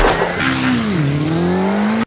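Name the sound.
race car engine revving and tires squealing in a movie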